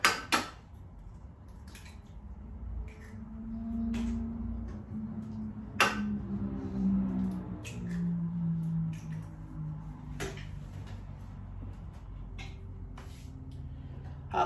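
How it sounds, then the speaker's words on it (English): Two eggs go into a bowl of meatball mixture, with scattered clinks and taps of utensils against the bowl over a low, steady kitchen background, with no voices. "I'm also going to now add to this 2 eggs."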